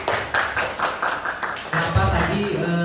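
A classroom audience claps for a student group in a teacher-training session, uneven bursts of hand claps that come and go with a voice talking over them.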